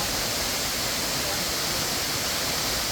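A waterfall at a tourist spot in Bali pours steadily, giving a dense, even rush of falling water that holds constant for the whole stretch with no voices over it.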